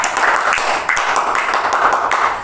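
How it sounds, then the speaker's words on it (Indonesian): Brief clapping from a small group in a group counseling session, a dense patter of hand claps close by for a couple of seconds. "Beri tepuk tangan untuk Mbak Vinky."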